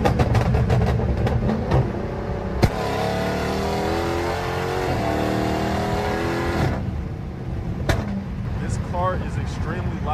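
From inside a fast car with the windows down, a loud, raw engine roar climbs through a long, hard acceleration in traffic, then the throttle lifts, leaving rushing wind and road noise.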